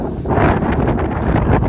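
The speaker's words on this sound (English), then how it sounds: "So there we go, there's another gust." A strong wind gust during a coastal blizzard at the New Jersey shore, a loud roaring rush buffeting the microphone and swelling across the whole stretch.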